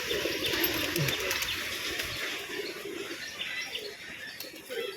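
A silver male tumbling pigeon coos in low, soft calls mixed with small chirps, close but not loud, over a steady hiss of background noise.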